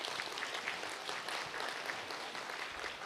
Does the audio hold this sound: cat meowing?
no